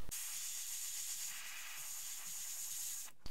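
An airbrush loaded with black paint sprays onto a bluegill fishing lure, giving a steady, close, soft hiss that runs unbroken for about three seconds before cutting off.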